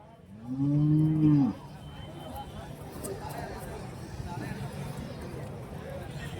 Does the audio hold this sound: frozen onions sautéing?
no